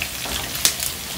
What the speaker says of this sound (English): I like to let my one fry real crispy